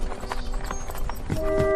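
Horse's hooves clip-clopping as it runs, a quick, uneven series of close, knocking beats over a short stretch, with a faint tonal sound near the end.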